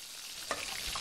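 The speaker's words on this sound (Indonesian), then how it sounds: "Apa yang kau goreng tu? Telur ikan." Fish roe frying in a pan in an animated cartoon kitchen, a steady soft sizzle with a brief stir around the middle, close and fairly quiet.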